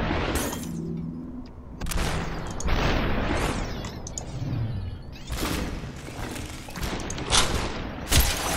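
Gunfire in the video game Superhot, a run of sharp bursts and crashing impacts with glassy shattering, some shots loud and close, spread across the whole stretch with no talk.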